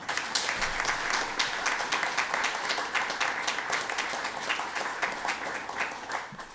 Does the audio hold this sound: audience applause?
yes